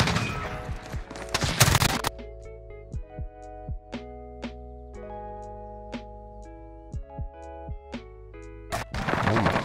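Gunfire from an M13 rifle loaded with yellow tracer rounds in Modern Warfare, heard as bursts at the start and end, with a tonal stretch of game music or effects between them.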